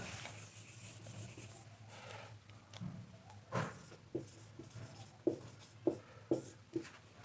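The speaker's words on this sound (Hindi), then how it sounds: "एक बार हम उपकला लिखेंगे।" Writing on a board during a biology lesson on animal tissue, faint scratchy strokes and taps that grow into a series of short distinct marks near the end, quiet and without talk.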